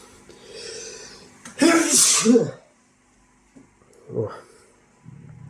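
A single loud, close sneeze from a person, with a sharp inhale and burst, standing alone amid quiet room tone, followed later by a fainter sniff or throat sound.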